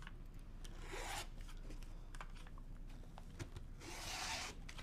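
Quilting fabric being cut for a quilt block, probably with a rotary cutter against a ruler, heard as two short rasping swipes with soft rubbing and handling noise between them, faint and close.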